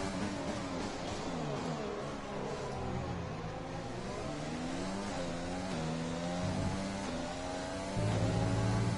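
Formula 1 car engine in the F1 2020 racing game at the Bahrain Grand Prix, a loud continuous whine climbing in pitch through repeated gear changes, alone without talk.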